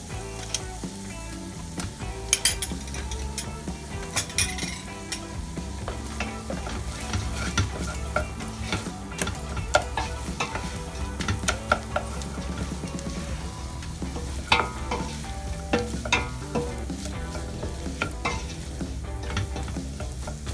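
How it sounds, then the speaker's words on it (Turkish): Minced meat, carrot, pepper and tomato paste frying for a pea stew, a busy continuous sizzle with frequent scraping and stirring clatter close by, no one speaking. "Evet şu anda kavrulmuş durumda kıymamız, havucumuz, biberimiz, salçamız."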